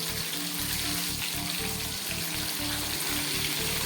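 Fish fries in hot oil in a pan, giving a steady, dense, close sizzle that continues without a break and with no voices.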